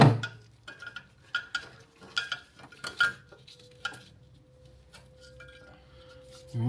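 Metal nuts from a Range Rover Classic front shock absorber job dropped into a small pot, a handful of separate bright metallic clinks and rattles spaced irregularly, with a low hum in the background.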